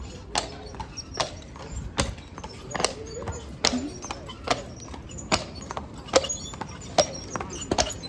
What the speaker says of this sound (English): The horse-drawn carriage rides are offered from 5:30 to 9:30 nightly